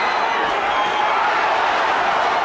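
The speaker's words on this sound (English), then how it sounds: "The crowd erupts." A boxing arena crowd roars during a heavyweight fight, a dense, steady wash of cheering and yelling that holds at a constant level throughout.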